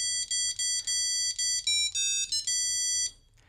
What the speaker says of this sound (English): the cool thing is you can also change the ringtone.